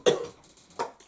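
A person with a cold coughs twice, close to the mic: one harsh, forceful cough and then a shorter one after a brief pause, with quiet in between.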